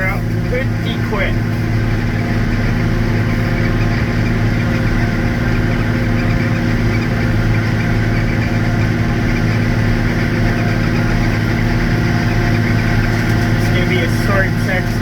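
A 138-horsepower tractor works under heavy load while chopping corn silage, its engine droning loud and steady throughout with a constant low rumble.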